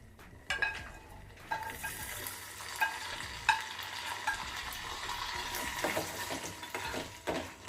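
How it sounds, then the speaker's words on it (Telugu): Fried dry fruits stirred into cooking rice in a pot for a sweet offering dish: soft continuous stirring and bubbling with faint sizzle and occasional spoon taps, quiet and close, no talk. "ఉడుకుతున్న అన్నంలో మనం వేయించుకున్న ఈ డ్రై ఫ్రూట్స్ అన్నీ కూడా వేసుకుందాము."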